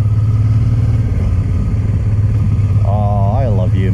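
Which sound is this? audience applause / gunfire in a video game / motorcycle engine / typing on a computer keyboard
motorcycle engine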